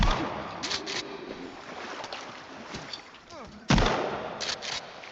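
Shotgun blasts in the survival game Sons of the Forest, a couple of sharp reports including one loud close shot, set against ambient game noise with a person talking throughout.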